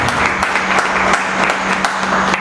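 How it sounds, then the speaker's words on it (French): An audience at a public gathering applauds for the president: continuous clapping from many hands with a few sharper individual claps standing out, fairly loud and close, over a low steady hum. "nous allons applaudir pour le président"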